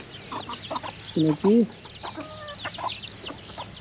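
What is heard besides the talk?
chickens clucking while foraging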